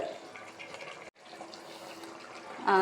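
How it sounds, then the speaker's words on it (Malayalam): A pot of chicken curry bubbles and simmers up close, a busy watery burble that cuts out briefly and then grows louder. "നല്ലപോലെ തിളച്ച് പറ്റി വരുന്നുണ്ട്"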